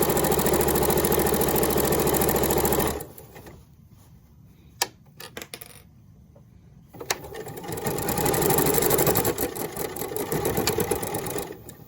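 A sewing machine fitted with a walking foot hums loudly and steadily while sewing over the bulky side seam of a quilted fabric basket, then pauses with a few clicks and starts running again, with no talk.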